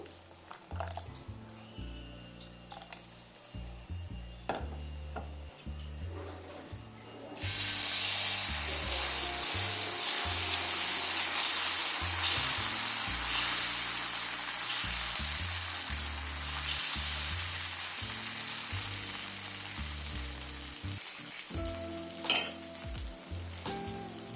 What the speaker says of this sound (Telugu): పెనం వేడెక్కిందండి దోశ వేస్తున్నాను